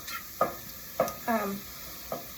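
Mushrooms browning in butter in a pan for beef stroganoff, a quiet low sizzle broken by a few short, distinct scraping stirs.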